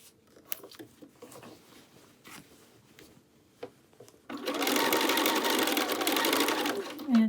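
A sewing machine stitches binding around a quilted jacket hood: soft handling rustles and taps come first, then a close, loud, steady whirring run starts midway and continues to the end.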